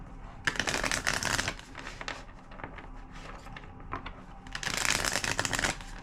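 A deck of cards is riffle-shuffled up close, with two bursts of quick fluttering clicks and quieter handling of the cards between them.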